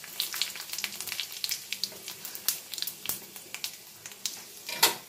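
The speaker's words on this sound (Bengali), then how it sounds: "কড়াইয়ে আর একটু তেল দিয়ে দিয়েছি, সর্ষের তেল। এবার আমি এর মধ্যে তেজপাতা, শুকনো লঙ্কা, পাঁচ ফোড়নটা" Bay leaf, dried red chilli and panch phoron crackle and spit in hot mustard oil in a kadai, a dense run of sharp pops and sizzles with no talking.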